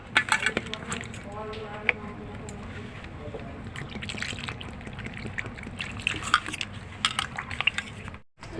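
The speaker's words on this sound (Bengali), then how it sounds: "ভালো পরিষ্কার করে আলুগুলো ধুয়ে নেব।" Potatoes being washed by hand in a container of water, with sloshing, dripping and small knocks against the vessel continuing throughout at close range, under some quiet voice in the background.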